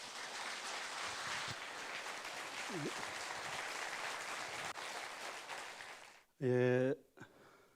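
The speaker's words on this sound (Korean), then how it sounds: "뜨거운 박수 부탁드리겠습니다." Audience applause at a Buddhist lecture hall, steady dense clapping from a crowd for about six seconds, then a brief tonal musical or voice burst as it ends.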